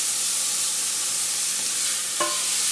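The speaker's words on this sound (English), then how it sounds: "these vegetables sauteing a little bit, and they're getting nice and brown" Mixed vegetables browning in a pan for a kitchen-sink soup give off an even, close hiss of sizzling, with a brief clink partway through.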